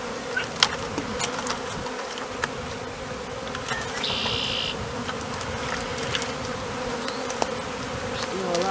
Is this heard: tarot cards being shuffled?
no